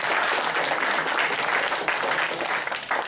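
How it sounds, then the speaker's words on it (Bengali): A crowd at a youth group meeting on election matters claps loudly and steadily for the guests, a dense, continuous burst of applause with no break across the moment. "আমি সকল অতিথির জন্য একবার জোরে করতালি আশা করছি।"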